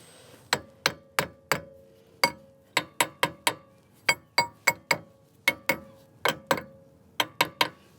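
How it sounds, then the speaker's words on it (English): Sharp metallic hammer taps on rusty drum brake bolts of a Fiat 500, struck in an irregular string of about twenty close, crisp hits with short pauses between bursts. "Just tap these bolts a bit."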